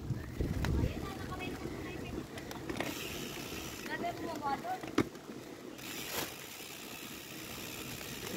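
Horse hooves clip-clopping along Barangay Bayabas Road, heard outdoors over steady wind and road rumble, with a few sharper knocks. People talk in the background.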